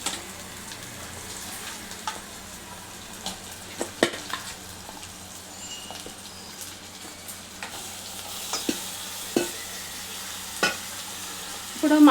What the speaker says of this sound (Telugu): ఈ విధంగా వేగింది కదా, ఇప్పుడు చికెన్ వేసుకుందాం.